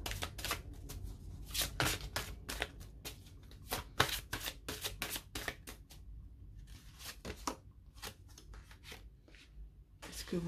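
A tarot or oracle deck being shuffled up close for a second card reading gives quick bursts of riffling and slapping card sounds, faster and denser at first, then sparser, alone without talk.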